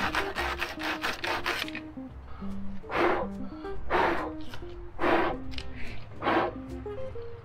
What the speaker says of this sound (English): I'm trying to make sure I got all the little burrs off of there.